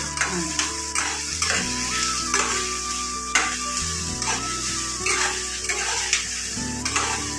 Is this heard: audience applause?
no